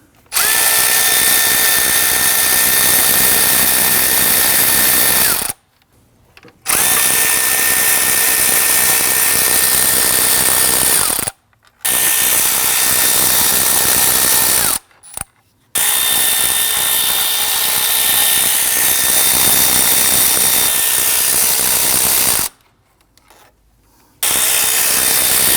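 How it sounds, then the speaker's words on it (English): A loud power tool removing bolts on a 2009-2017 Volvo XC60 3.2L inline-six whines in long sustained bursts, stopping briefly between runs, close up and harsh, with no voices. "I'm going to transition over to a power tool and go ahead and zip these out."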